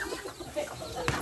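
Bantam hens scratching in compost cluck softly at close range in short, irregular bursts over outdoor background noise.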